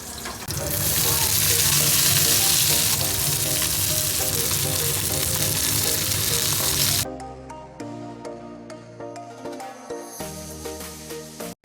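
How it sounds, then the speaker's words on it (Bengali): Fish fries in hot oil in a pan with a loud, continuous hiss and sizzle that suddenly drops to a quieter crackle and scattered pops partway through. "এখন এই মাছটা ভেজে তারপর দেবো খেতে"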